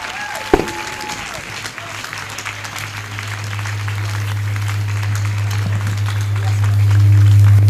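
Audience applause welcoming the keynote speaker at a school's speech and prize-giving anniversary celebration, dense clapping from a large crowd over a loud, steady low hum that grows louder toward the end.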